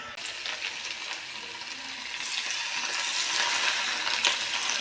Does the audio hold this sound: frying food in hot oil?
yes